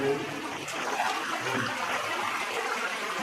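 Water flowing constantly inside a cave, a steady rushing and splashing wash close by that holds at even loudness throughout, with no talking.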